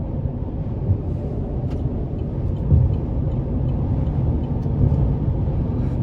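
Steady low road rumble and wind rush fill the cabin of a 2021 Chevy Colorado WT 3.6 4WD cruising at speed, a constant even drone with no talking.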